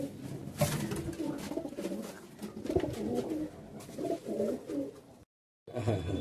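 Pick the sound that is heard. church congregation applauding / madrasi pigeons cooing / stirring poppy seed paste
madrasi pigeons cooing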